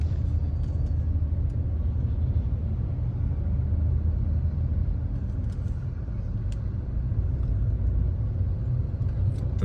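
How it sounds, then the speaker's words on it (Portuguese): Heavy traffic on the BR-101 highway in Brazil, a continuous low rumble of cars and larger vehicles rolling past nearby, steady and unbroken with no voices. "Trânsito intenso."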